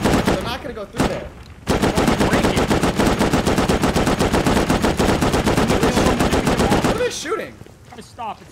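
Rapid automatic gunfire in a video game base raid hammers at a wall, loud and close, one short burst first, then a long sustained stream of shots, with voices talking at the start and end.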